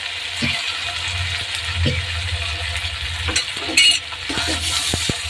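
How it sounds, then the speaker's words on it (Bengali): Close, steady sizzling of a paste with tomato and green chili frying in a pan, with scattered scraping clicks of a spoon stirring through it. "এটা ভাজা ভাজা হয়ে গেলে তারপরে বাকি মশলাগুলো দেবো।"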